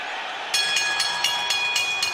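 Boxing arena crowd at the Mandalay Bay in Las Vegas roaring before a main event, a steady dense wash of noise with regular sharp bursts over it, heard from a distance.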